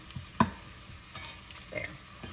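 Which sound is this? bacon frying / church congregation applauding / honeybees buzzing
bacon frying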